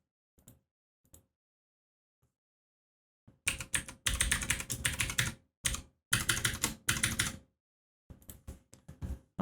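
Fingers tap out a custom password on a computer keyboard, a few isolated clicks, then two rapid bursts of close, crisp typing separated by a brief pause, and scattered final keystrokes, with no voices.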